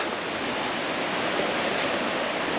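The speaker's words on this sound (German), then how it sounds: "Die See ist heute stürmisch" Rough, wind-whipped lake waves in the Andes churn in a continuous dense roar, close and unbroken, with no voices.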